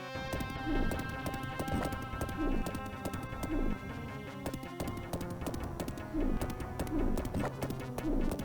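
Retro video game horse sounds in Dahna: Megami Tanjou, heard as repeated chiptune clip-clop hoofbeats and whinny-like bursts that recur every second or so over steady game music, with no voices.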